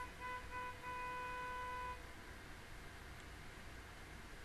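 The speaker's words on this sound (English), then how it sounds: "You gotta love when people like to honk their frickin' horns." Car horn honking outside, a steady tone lasting about two seconds over constant background noise, then breaking off.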